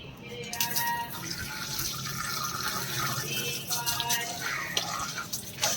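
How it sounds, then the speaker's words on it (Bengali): Water runs from a tap while a pair of slippers is rinsed, a steady close splashing stream with irregular spatters and drips throughout. "চটিটা ধুই।"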